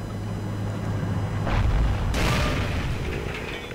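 Weapon fire in the Forgotten Hope World War II shooter game: two heavy, booming blasts about half a second apart, close and loud, over a steady low battlefield rumble that lingers afterward.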